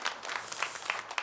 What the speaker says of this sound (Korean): 우리 김한수 목사님 환영의 박수 하겠습니다